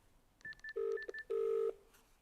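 A telephone dials out on a call, a quick run of close, clear keypad tones followed by two longer tone bursts as the line begins to connect.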